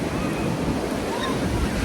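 Ocean surf and strong wind at a beach, a loud, continuous roar of breaking waves and wind buffeting the microphone throughout this short moment.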